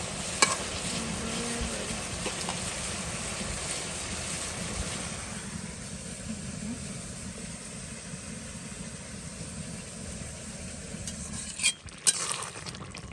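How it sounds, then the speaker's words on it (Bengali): Fish added to vegetables cooking in a pan, a steady close sizzle of frying that eases slightly midway, ending with a couple of sharp utensil knocks, no talking. "তারপর সবজিটা রান্না করার শেষ দিকটা হচ্ছে মাছটাকে দিয়ে দিই"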